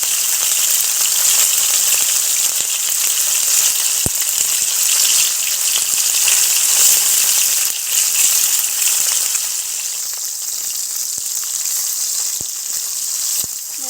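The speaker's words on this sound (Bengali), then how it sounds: "মাছগুলিকে খুব আস্তে আস্তে করে ভেজে নেব" Chapila fish frying gently in oil for a mustard fish recipe: a loud, even, close sizzle that holds steady throughout, with a few faint clicks and no speech.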